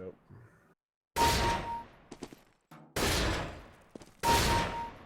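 Three sharp bursts of gunfire ring out while shooting targets in a video game, each loud and trailing off, separated by quieter moments with faint clicks and a voice speaking.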